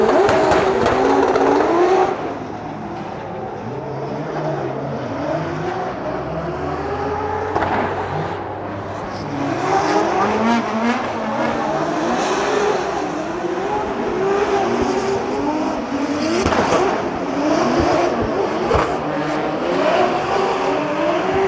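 Drift cars running in tandem at a Drift Masters practice session in Germany, high-revving engines rising and falling with bouncing limiter notes and tire noise, loud and continuous with overlapping engine tones.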